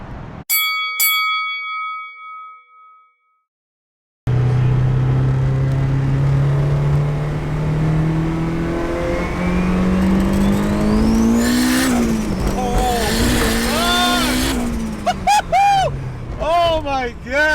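A 500 hp Honda drag-racing an 850 hp Hellcat: after a few bell dings and a short silence, car engines roar up through the gears, rising and shifting loudly nearby, with tire noise and excited voices near the end.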